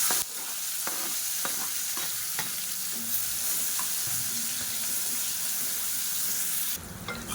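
Finely chopped small onions fry in oil for sambar, a continuous hissing sizzle with occasional spoon knocks and stirring scrapes, steady and close, fading slightly near the end; no talking.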